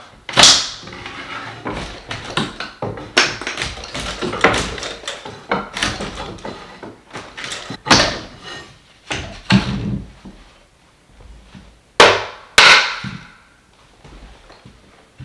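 An old wooden door being worked loose and pulled out of its frame during a pre-hung door replacement, a loud, close series of irregular creaks, scrapes, knocks and sharp cracks with brief pauses between efforts.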